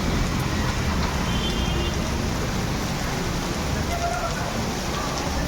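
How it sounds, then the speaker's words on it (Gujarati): Heavy monsoon rain pours down steadily in Keshod, Gujarat, a dense continuous hiss and patter with no break, loud and close throughout. "જોરદાર વરસાદ ચાલુ છે"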